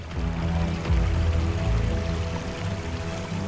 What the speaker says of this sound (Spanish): Desde el norte, el agua comienza a circular hacia el seco lecho del río,